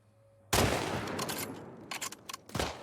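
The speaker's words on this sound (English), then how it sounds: "Let me try and get a headshot." Video game gunfire erupts suddenly: one sharp, loud shot followed by a ringing tail, then a few quicker bursts of rapid shots near the end, with no talk.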